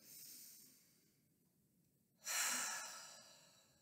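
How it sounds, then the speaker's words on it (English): Slow breathing: a soft breath out, a quiet pause, then a louder, longer exhale near the microphone, with no talking. "Big breath in and out."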